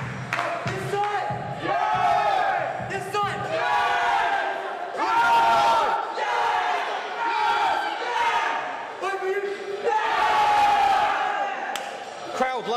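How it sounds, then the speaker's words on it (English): At a darts match, a large crowd roars and chants in repeated surging waves, loud and close, with rhythmic shouts and cheers and a commentator's voice over the din. "Crowd love John."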